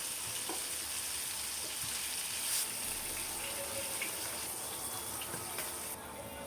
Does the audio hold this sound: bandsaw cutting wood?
no